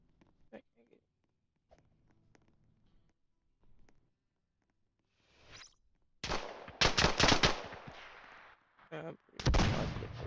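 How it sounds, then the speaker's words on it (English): Gunfire in a multiplayer shooter video game, rapid bursts of automatic fire and loud blasts in the second half. Quiet voice chat and soft sounds come first. "I'm pretty positive they were shooting at me."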